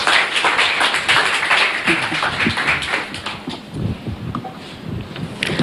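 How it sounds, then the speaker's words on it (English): Audience applause at a live event in Kenya, a steady wash of many hands clapping close by with a rough, wind-buffeted texture, gradually thinning toward the end. "once again, a round of applause"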